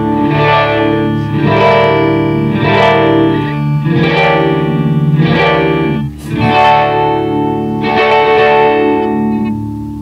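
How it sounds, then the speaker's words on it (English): Electric guitar chords ring out through a Zoom MS-50G auto-wah effect with amp emulation for grit, each strum opening with a vocal-like swell; distorted and reverberant, about eight strums over steady rhythm. "This is the auto wah, which I had to add the ZP1 amp emulation thing to,"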